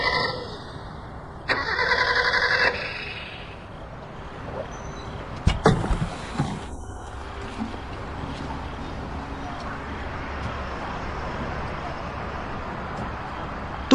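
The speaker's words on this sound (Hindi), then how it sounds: "मुझसे गाड़ी स्टार्ट नहीं हो रही।" A car engine cranking repeatedly without catching, a short grinding whir near the start and another burst midway, with quiet stretches between.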